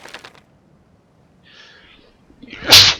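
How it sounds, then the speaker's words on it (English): A single sharp, close sneeze bursts out near the end after a quiet lead-in with a brief breath and faint rustle, loud and abrupt against near silence. "Oh, excuse me, just sneezed."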